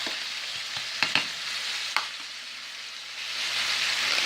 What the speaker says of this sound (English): So anyway, I'm cooking this pork.